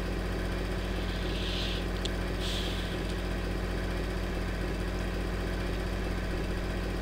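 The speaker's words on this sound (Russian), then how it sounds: "Слышите, какой звук двигателя?" A truck engine idles in the game 18 Wheels of Steel Across America with a steady low rumble and hum, constant throughout, with a couple of faint higher clicks over it.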